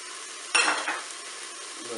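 Chopped parsley and chives are stirred into browning food in a Cookeo electric pot: a short scraping burst of spoon against the pot, then softer sizzling underneath.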